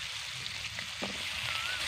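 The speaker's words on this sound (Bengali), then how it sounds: "প্রথম আমি আলু আর গাজরটাকে ভাজবো" Potatoes and carrots frying in a pan, cooking for a Bengali shukto, with a steady low sizzle and a few soft stirring knocks.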